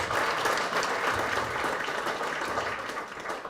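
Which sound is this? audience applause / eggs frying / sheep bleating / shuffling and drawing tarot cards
audience applause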